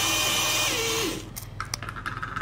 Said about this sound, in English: Then I'll blend them together.